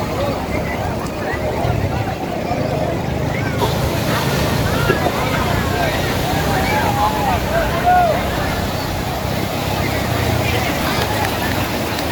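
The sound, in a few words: sea waves roaring on beach at Cox's Bazar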